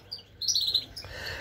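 Goldfinches in a nest give quick high chirps and tweets in a short burst, close and fairly soft, with no talking over them.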